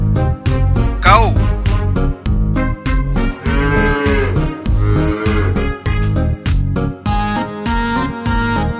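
A cow moos repeatedly in long, loud, tonal calls, some rising and falling, set against a bouncy children's music track with a steady beat; no speech over the calls.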